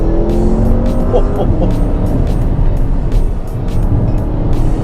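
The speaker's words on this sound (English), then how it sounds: "The engine is even more aggressive and powerful." A 2017 Porsche Panamera Turbo engine roars steadily at high revs under hard acceleration, loud and close, with a rising whine and broadband road noise throughout and no pauses.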